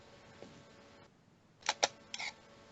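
A Fujifilm GFX 50R medium-format camera fires its shutter in a few crisp, loud mechanical clacks at close range. The clacks come in a quick double, then one more, against a quiet room.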